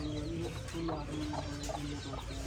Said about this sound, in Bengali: মুরগিও পালে, ব্রয়লার মুরগি,